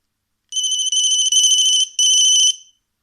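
A loud, piercing electronic test tone sounds from the main loudspeaker of a Sony Ericsson T68i phone in two bursts, a long one then a shorter one, against silence.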